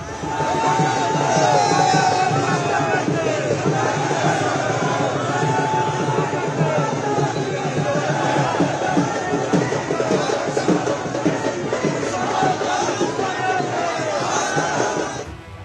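A large crowd gathers for a political road show in Solan, Himachal Pradesh, on a cold day, with dense, steady crowd noise and shouting voices that hold loud and continuous throughout.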